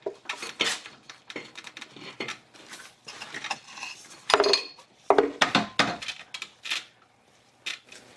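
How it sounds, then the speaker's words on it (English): A crank pulley is fitted back onto the engine of a 1992 Acura Legend during a timing belt job, with irregular metallic clanks and clinks of parts and tools handled close by. "I'm going to put the crank pulley back on."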